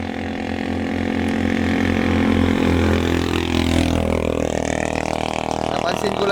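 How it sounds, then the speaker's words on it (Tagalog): Motorcycles race nearby on a hot evening, engines droning and revving with a rising, shifting pitch as bikes pass, loud and sustained throughout with a steady throbbing low rumble. "May mga nagkakarera dito ng motor oh."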